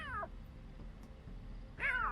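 A cat in The Sims 3 meows twice, a short cry at the start and a longer rising-falling meow near the end, clear and close over a low ambient hum, with no talking.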